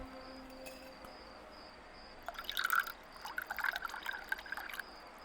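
Tea is poured in a quiet room, a soft trickling stream of liquid that rises and falls over a few seconds, with faint background hiss.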